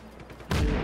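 Enemy gunfire in the open-world action game Just Cause 3 breaks out suddenly after a quieter moment, a loud burst of shots and booming impact that stays heavy to the end.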